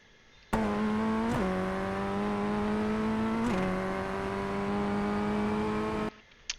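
Ray FF1600 race car in iRacing at Belle Isle, Detroit: a loud, steady engine drone held close and alone, with two sharp gear-change blips breaking the tone before it climbs back on throttle.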